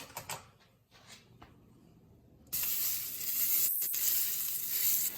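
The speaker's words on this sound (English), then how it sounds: "Adding my butter to the frying pan." A sudden loud sizzle bursts in and holds steady as butter hits a hot pan, after a few quiet kitchen clatters.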